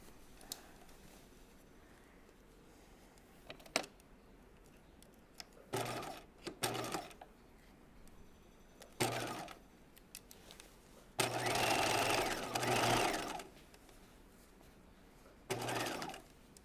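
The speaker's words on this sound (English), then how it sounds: "And now we're going to sew these two together" A sewing machine at a regular 2.5 stitch length joins two fabric pieces in short stop-start bursts of whirring, then one longer continuous run followed by a final brief burst, with quiet handling between.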